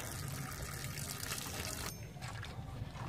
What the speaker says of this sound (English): We're done spinning the clothes now. We're just draining out the wash water.